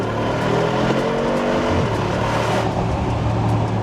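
A Mercedes-AMG G63 accelerates hard, its engine a loud, steady roar with rising gear tones and a shift partway through, heard from inside the vehicle with no talking.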